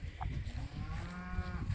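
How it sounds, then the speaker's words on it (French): Horned cows in a pasture on a countryside hike, lowing in a couple of short, close moos over soft outdoor background noise. "Comme vous êtes belles les vaches avec vos belles cornes"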